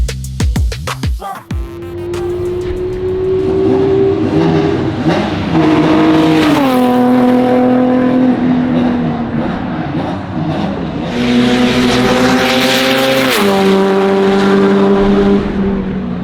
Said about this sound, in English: Brad's out there at the moment doing some laps.